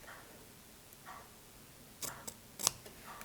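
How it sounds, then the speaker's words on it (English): Scissors cut marble fabric at the corner of a canvas, giving a few faint, close snips and crisp clicks late in an otherwise quiet moment. "I'm going to cut from this corner of my cut to the corner of my canvas"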